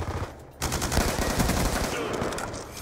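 Rapid automatic MTAR rifle fire in a video game, dense bursts of crackling shots after a short pause at the start, moderately loud and continuous.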